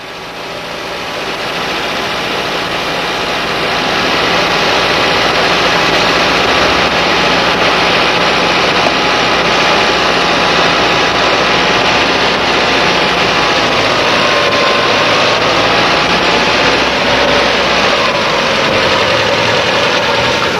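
A VW engine with a 2E carburetor idles steadily during idle-speed adjustment, a loud, close, continuous mechanical hum with a faint rhythmic knock and no talk.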